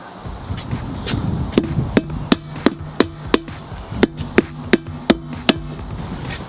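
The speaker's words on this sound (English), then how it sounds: "You can give it a little tap with a hammer if you want to." Hammer tapping a tire bead onto a Jeep JL Unlimited Rubicon wheel with Hutchinson Rock Monster beadlock: a series of about a dozen crisp metallic taps, closely spaced and fairly loud, some with a short ringing tone after each strike.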